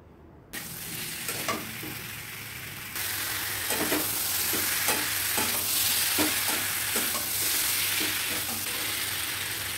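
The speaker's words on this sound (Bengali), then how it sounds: "দিয়ে ভালো করে কষিয়ে নিচ্ছি।" Potatoes and pointed gourd for a vegetarian curry are sautéed and stirred in a pan, with a steady sizzle and repeated scraping strokes of a spatula close by, no talk.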